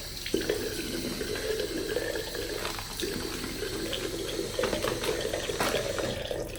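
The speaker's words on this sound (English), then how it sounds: "Put a bit of water there." Water runs steadily from a sink tap, a close, continuous splashing stream with slight shifts in pitch as the flow hits the basin, no voices.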